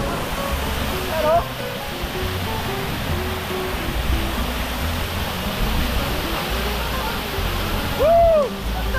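Balagbag Falls in Real, Quezon roars as a dense, steady wash of falling water, loud and close, with a voice exclaiming briefly over it.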